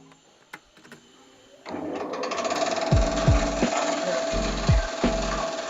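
A Futake hammermill stone crusher machine starts after a few quiet clicks, then runs with a steady mechanical whir and rattle, punctuated by several heavy low thumps from the crushing chamber, close and fairly loud.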